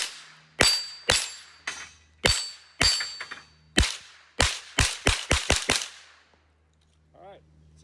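Rapid gunshots from an HK rifle striking steel plates while the shooter moves, loud sharp cracks in an uneven rhythm of about thirteen shots, the last ones fired in a quick burst, followed by a faint ring-off and quiet.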